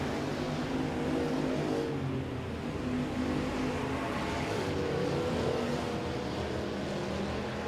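Stock cars roaring around the Boothill Speedway dirt track during the final lap of a night race at the Billy Melton Memorial, a steady, loud wash of engine noise that swells and fades without a break.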